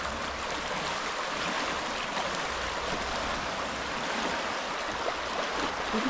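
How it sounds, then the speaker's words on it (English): Fast-flowing River Lund near Lund Bridge in the Lake District, running high after heavy rain, gives a steady, dense broadband rush of water that stays even and close throughout, with no talk. "So this is the River Lund, I think. We get to Lund Bridge, so I'm guessing this is the River Lund. Really fast flowing."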